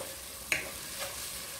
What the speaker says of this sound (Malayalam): ഇനി നന്നായിട്ട് പച്ചമണം പോകുന്ന വരെ ഒന്ന് വഴറ്റി കൊടുക്കും.